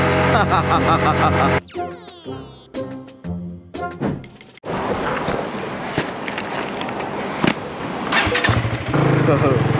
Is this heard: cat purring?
no